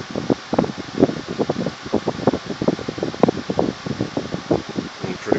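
A 2000s Lasko 2016 16-inch oscillating desk fan running, a steady airy whoosh with a rapid rhythmic fluttering pulse throughout, fairly close and continuous with no voices.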